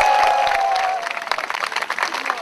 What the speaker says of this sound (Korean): 예, 큰 박수로 모시겠습니다.